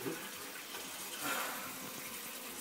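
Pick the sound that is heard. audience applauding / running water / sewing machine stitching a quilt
running water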